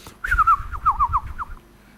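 A human voice imitates nocturnal bird calls with a short run of warbling, whistled notes, about eight rapid chirps falling in pitch, close and fairly loud.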